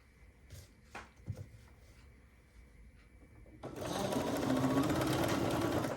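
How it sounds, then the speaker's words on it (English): A sewing machine starts after a few clicks and handling noises, then runs in a fast steady whirring stitch across fabric for about two seconds, close and loud. "I didn't clean Miss Nina here before we started sewing"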